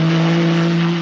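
A front-engine Ferrari V6 grand prix car engine holds a loud, close, sustained high rev with a strong steady tonal whine that barely changes over about a second.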